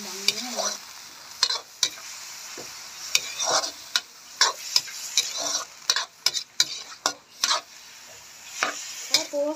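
Chicken gizzards stirred in a frying pan: a steady sizzle with repeated sharp scraping strokes of a spatula against the pan, irregular and close, with no talk.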